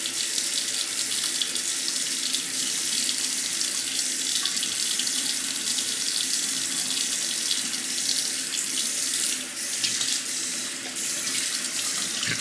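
Water runs steadily from a tap, rinsing soap off a Shapton whetstone and a blade, a continuous hissing splash close by and alone.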